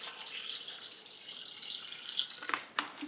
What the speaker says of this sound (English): Now I'm adding some water.